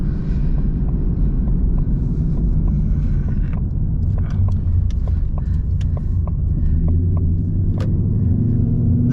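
A Ford Mustang GT running on E85 fuel accelerates, its engine a loud, continuous low rumble heard from inside the car with steady droning tone throughout, no talking.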